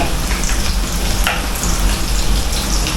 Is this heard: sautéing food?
yes